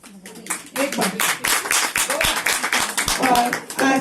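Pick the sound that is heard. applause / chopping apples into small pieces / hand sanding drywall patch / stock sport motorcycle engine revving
applause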